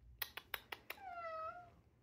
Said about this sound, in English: Usually he's meowing.